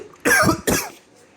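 Two sharp coughs in quick succession, close and fairly loud, each a short harsh burst, followed by quiet.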